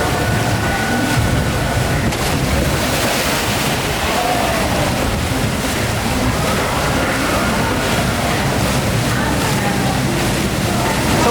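A River Caves boat ride at Blackpool Pleasure Beach gives a loud, constant rush of water and wind noise close to the microphone throughout.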